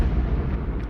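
Cannon fire from a battle between palayakkarar armies and attackers on a fort rumbles as a deep, sustained explosive roar, loud and dense throughout with no gaps.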